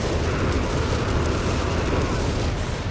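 Artillery volley in the video game Company of Heroes 3, a dense continuous rumble of booms and blasts, loud and unbroken across the whole moment.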